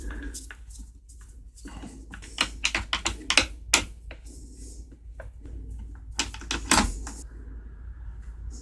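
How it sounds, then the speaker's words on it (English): Screws are taken out of the cover of a Husqvarna 262XP chainsaw, giving sparse close clicks and small metallic taps, some sharper and louder, over a quiet low hum. "You'll need to take 4 screws out of this cover."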